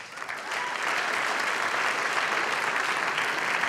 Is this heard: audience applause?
yes